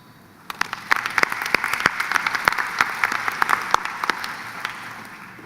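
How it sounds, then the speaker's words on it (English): A commencement audience at a college graduation ceremony breaks into applause after a brief quiet moment, many hands clapping in a dense, sustained roar that eases slightly toward the end. "please give a round of applause to yourselves."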